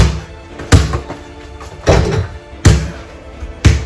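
Several sharp thuds of a basketball striking the backboard of a wider Nate Robinson TEKK indoor mini hoop during layups, four distinct close impacts spaced about a second apart, each with a short ringing decay.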